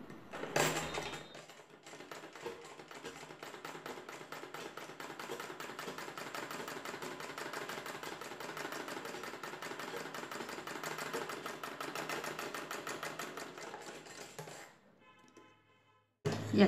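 A sewing machine stitches a round seam on blouse fabric in one fast, steady run of rapid mechanical ticks, close and even, slowing and stopping near the end before a brief clunk.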